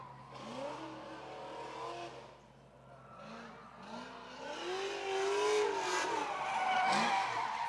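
An 800-horsepower drift car makes a run, its engine revving and rising and falling in pitch as it accelerates, distant at first and growing louder, with a hint of tire squeal.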